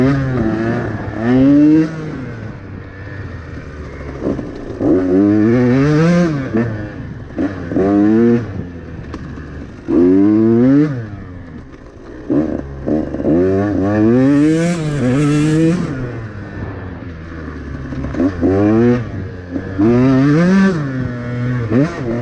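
A two-stroke KTM 150 XCW dirt bike fitted with a Lectron carburetor runs and revs in repeated bursts, its engine pitch sweeping up and down in rising and falling surges, loud and close with no talking.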